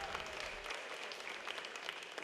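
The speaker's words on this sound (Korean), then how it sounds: "관객들은 환호와 박수로 화답했습니다" An audience cheering and clapping after a fan dance closes a two-hour dance festival, a dense, steady wash of applause that stays even throughout, heard from within the hall.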